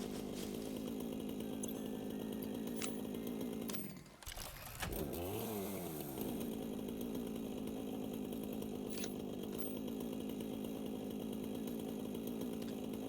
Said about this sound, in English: Chainsaw doesn't take leaves.